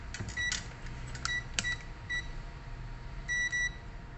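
Several short electronic beeps from a multimeter's continuity buzzer, thin and high-pitched, spaced irregularly over a low background hum, with a brief cluster of tones near the end, while testing a GTX 1660 Super graphics card.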